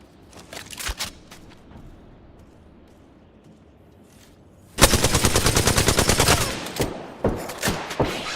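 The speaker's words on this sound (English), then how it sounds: "Opening fire." Rapid automatic gunfire in a video game bursts in loudly after a few scattered distant shots, a dense sustained volley followed by several separate sharp cracks.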